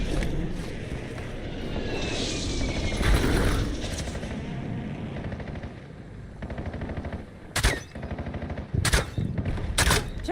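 Machine-gun fire in the video game Black Ops 7, rapid sustained bursts over a busy battlefield rumble, followed by a few sharp, isolated gunshots near the end.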